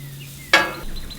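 Onions dropped onto a hot gas grill flat-top for smash burgers burst into a sudden loud sizzle that settles into a steady, crackling hiss with small pops.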